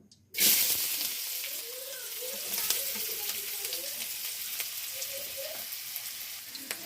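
Onions dropped into hot oil set off a sudden loud hiss that eases into a steady crackling sizzle, with faint stirring clinks throughout.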